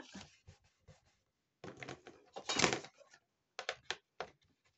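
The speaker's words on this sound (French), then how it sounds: "on vient défaire notre scotch double face" Close, crisp crackling and short ripping sounds of backing being peeled off double-sided tape, in irregular bursts with one longer peel in the middle.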